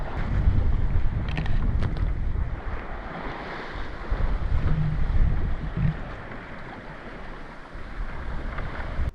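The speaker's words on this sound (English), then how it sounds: "The sun is out, the sails are out, I hear the water" A sailboat under sail at sea on a long passage from Vanuatu to Cairns, with continuous rushing water along the hull and heavy wind buffeting the microphone, loud and steady with no talking.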